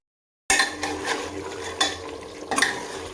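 A spoon scrapes and stirs chicken kosha with yogurt in a pan in repeated close strokes over a soft sizzle, starting after a brief silence with no talk.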